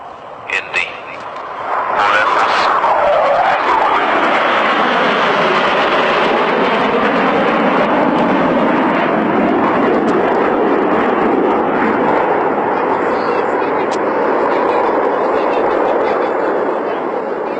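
A Phantom fighter jet flies past at an airshow, a loud continuous roar that swells and sustains for most of the clip, with a sweeping pitch shift as it passes; crowd or wind noise sits beneath it.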